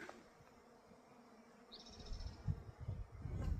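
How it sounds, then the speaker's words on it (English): Bees hum softly over a field of yellow blossoms on a trail, a faint, steady buzzing drone beneath rustling and nearby footstep-like noises. "over it all is the hum of bees."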